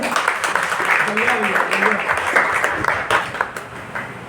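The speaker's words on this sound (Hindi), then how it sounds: "तालियां एक बार आप लोग बजा दीजिए" A crowd applauds steadily for several seconds, a dense wash of clapping with voices murmuring underneath.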